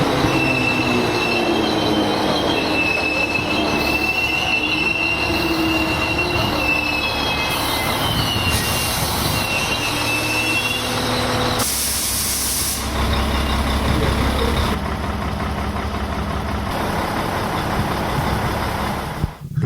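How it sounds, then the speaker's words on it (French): A Polish PKP train sits in a station, wheels squealing at a high pitch, with hissing air brakes and the rumble of rail cars over many seconds. "Une rame de l'infra des chemins de fer polonais est en gare."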